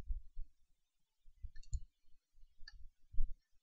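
Mouse clicks at a computer while working in Blender, several light, brief clicks spread unevenly over a quiet room tone with low thumps between them.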